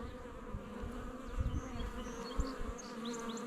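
Dense, continuous buzzing of honey bees swarming around an open Layens or long Langstroth hive during an inspection, with close fly-bys rising over the steady drone.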